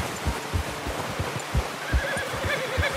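A horse in the Red Dead Redemption 2 video game whinnies, with steady clip-clop hoofbeats beneath, the neigh rising clearly over the footfalls near the end.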